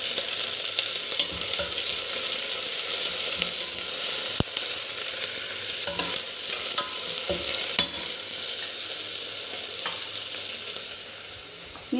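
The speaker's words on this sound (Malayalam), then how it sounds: "സവാള കാര്യങ്ങളെല്ലാം കൂടി ഇടേക്കാം." Sliced onions fry in a pan with a continuous loud sizzle, broken by repeated scraping stirs of a spoon, and no voices.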